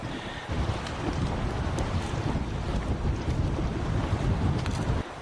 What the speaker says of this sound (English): It's getting quite windy